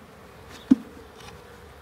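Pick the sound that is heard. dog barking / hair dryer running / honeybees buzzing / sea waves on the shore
honeybees buzzing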